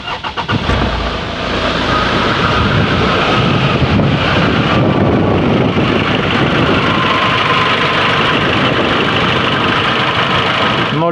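A car engine starts and runs steadily, driving a vacuum pump, a close continuous rumble with some wind buffeting the microphone.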